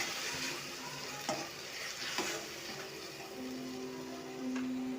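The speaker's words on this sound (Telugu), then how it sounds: "నేను గ్రైండ్ చేసి పెట్టుకున్న ఆనియన్, జింజర్, గార్లిక్ పేస్ట్ వచ్చి దీంట్లో వేసి బాగా ఫ్రై చేసుకోవాలి ఆయిల్లోనే." Onion, ginger and garlic paste frying in oil for vegetable kurma, a steady close sizzle with occasional utensil clinks and stirring, moderately quiet and free of speech.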